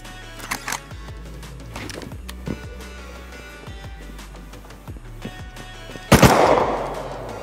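Gunfire in the survival video game Rust, a few faint distant pops scattered over several seconds, then one loud close shot with a ringing tail.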